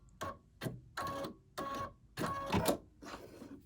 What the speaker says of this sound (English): I'm gonna cut that thread.